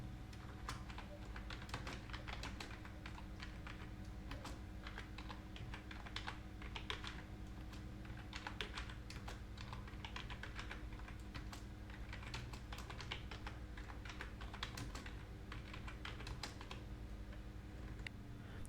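Steady typing on a computer keyboard, a dense run of quick key clicks lasting throughout at an even, close level, while a plugin name is entered into a search box.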